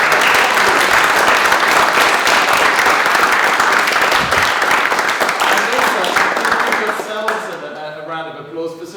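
Audience applause after a student presentation on space tourism, loud dense clapping from a room of people that fades near the end as a voice starts talking.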